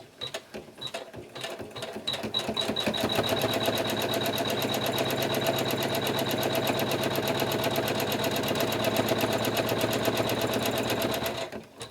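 A sewing machine stitches along the edge of a blue quilt square for an embroidered angel quilt, running in a steady rapid whir for most of the stretch after a few short starting bursts, close and alone.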